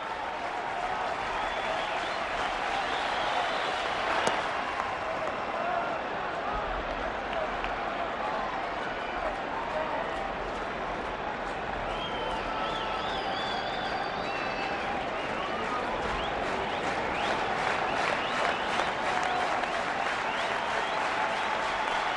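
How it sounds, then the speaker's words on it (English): A capacity crowd at a Mets–Cubs baseball game stands and cheers, a steady roar of voices and scattered clapping sustained throughout, dense and far-spread with no single voice standing out. "Capacity crowd on its feet."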